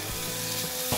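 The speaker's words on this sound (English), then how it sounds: "Okay, so I'm gonna add in the beef slices in the middle." Beef slices sizzle in a hot pan for a beef and broccoli stir fry, a loud, dense hiss that holds steady for about a second.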